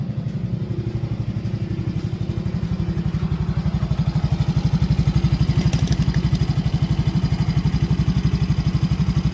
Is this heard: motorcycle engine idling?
yes